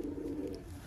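Pigeons kept for sale, including a hen with clipped wings, coo in a low, continuous murmur close by, a steady throaty hum with no voices over it.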